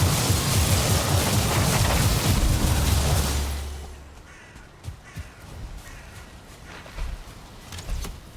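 A crow in Odin's Quest caws briefly amid a loud rumbling wash of game ambience that fades after a few seconds, leaving quieter scattered sounds and a few faint caws.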